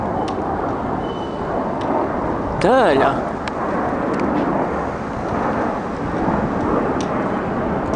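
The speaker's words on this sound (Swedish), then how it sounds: "Det här är två flygplan." Two airplanes fly overhead in Norrbotten, a loud, steady rumbling roar that fills the whole stretch, with people talking briefly beneath it.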